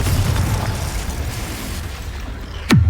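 In the Hogwarts Legacy video game, a Confringo blasting spell lands with a rumbling, noisy explosion that swells and then fades, followed by a sharp, sweeping whoosh at the end.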